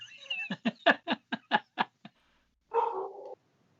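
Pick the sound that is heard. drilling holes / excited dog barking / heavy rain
excited dog barking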